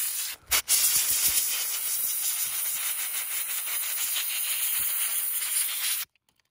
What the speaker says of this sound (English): And now for the best tool of all, the air compressor. Let's blast away any remaining debris like dead grass, leaves, seeds, or small rocks.